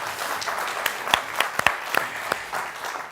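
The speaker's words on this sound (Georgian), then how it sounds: "აპლოდისმენტები" A studio audience at a comedy game show applauds, with loose scattered clapping and several sharp, close hand claps standing out over a thinner crowd.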